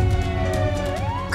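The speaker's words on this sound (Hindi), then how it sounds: "पुलिस के सायरन की आवाज कैसे आई?" A police siren wails close by, its tone gliding down and then rising again in a short continuous sweep over a steady background.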